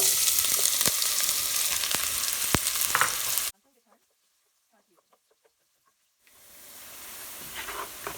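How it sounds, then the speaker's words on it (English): Onions frying in hot oil with a cinnamon stick and big cardamom give a loud, dense close sizzle for a few seconds, then cut out to near silence before a softer, steady frying hiss returns. "Now adding the cinnamon stick and this big cardamom to it. Now add the onions."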